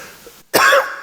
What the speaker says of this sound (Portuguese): Eu peço desculpa desta tosse, é uma constipação